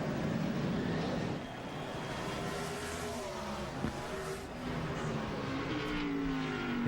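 NASCAR Xfinity Series race cars at speed, a steady engine roar with shifting pitch and brief passing swells, fairly loud throughout and without speech.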